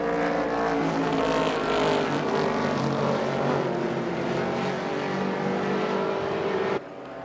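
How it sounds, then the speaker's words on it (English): Engines roar continuously as vintage race cars, including a black Corvette, a Lotus Super 7 and a Formula V, pass close by at Indianapolis, a loud droning that shifts in pitch before dropping off abruptly near the end. "right on the back of that black Corvette number 56 of Tony Perella is the 7A of John Nash"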